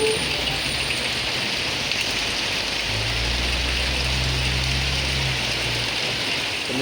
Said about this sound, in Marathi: पाऊस लय भयंकर पडता